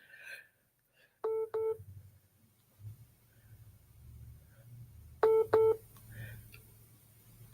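Two short bursts of telephone keypad dialing tones sound while another caller is added to a live phone call, set against low background hum and faint murmuring between them.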